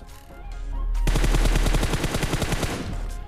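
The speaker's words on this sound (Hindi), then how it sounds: "एकदम से फायरिंग होती है बंदों की" Gunfire in the mobile battle royale game BGMI starts with a sudden burst after a quiet moment. Rapid automatic shots follow in a fast, loud, even rhythm that keeps going to the end.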